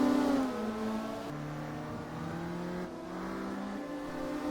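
Alfa Romeo touring race cars at Gothenburg drone steadily at high revs, with engine tones that rise and fall as the cars accelerate and shift, sounding moderately close.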